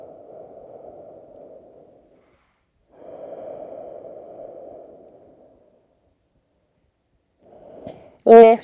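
Slow, deep yoga breaths: two long, soft exhales separated by a pause, then a third quieter breath before a voice starts speaking at the end.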